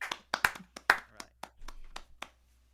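Scattered applause from a small crowd at an online song contest awards show, a dozen or so uneven claps spread over a few seconds, fairly close and thinning out toward the end.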